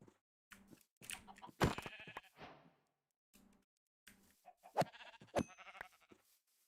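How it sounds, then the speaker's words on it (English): Sheep bleat in a video game, several short bleats in separate bursts, some loud and close, with quieter gaps between. "Why is there so many sheep? They're so annoying."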